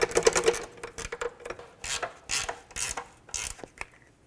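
Engine mount bolts being snugged up with a ratchet on a 2007-17 Jeep Compass during rear engine mount replacement, heard as repeated quick ratcheting clicks in short bursts, fairly close and moderately loud.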